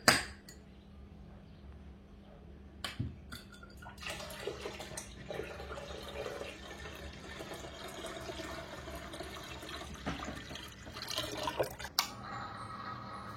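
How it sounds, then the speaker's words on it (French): Milk warmed to about 30-35 degrees poured into a pot, a continuous liquid splashing and gurgling stream, fairly faint with a few louder bursts, no talking. "on va verser tout notre lait dans cette marmite"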